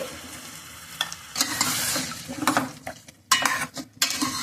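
Chicken with salt and turmeric is stirred in a curry pot, giving close scraping and clattering strokes with bursts of sizzle and brief pauses between them.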